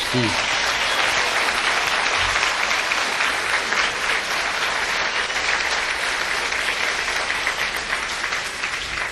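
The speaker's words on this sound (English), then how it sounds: "I didn't want no applause on that." Concert audience applauding steadily at a stage show, a dense, loud wash of clapping that holds for the whole stretch without a break.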